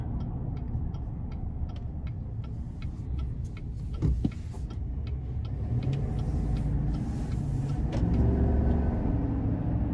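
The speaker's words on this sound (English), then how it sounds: "Gonna give it a little throttle here. Sounds really great." A 2021 GMC Sierra 1500 Denali Ultimate with the 6.2-litre V8 pulls under light throttle, a low, steady rumble heard from inside the cab that swells slightly toward the end, with a regular ticking like a turn signal clicking over it.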